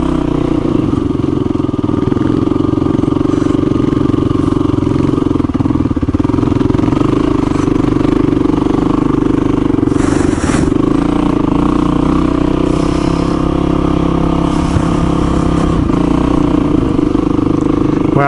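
Old Kawasaki KLR motorcycles motoring around trail turns on a benefit ride, a loud steady engine drone close to the mic with occasional clatter and shifts in pitch.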